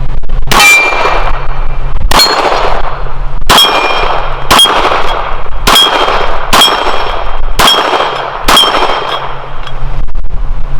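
Eight loud, sharp gunshots from a Glock 20 10mm pistol firing hand-loaded rounds on a range at 12 yards, evenly spaced about a second apart with ringing decay after each, no talk.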